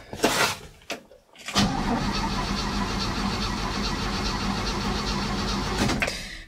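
A 1967 Chevy C10 Stepside barn-find pickup truck starts after a brief cranking stutter, then settles into a loud, steady idle close by that runs for several seconds before cutting off.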